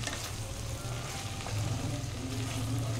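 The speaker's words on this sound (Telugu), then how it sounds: "ఇప్పుడు మెంతికూర వేసి వేయించుకోవాలి." Fenugreek leaves frying in a pan for a Telugu methi masoor dal pulao, giving a steady close sizzle and crackle with faint stirring throughout, no voices.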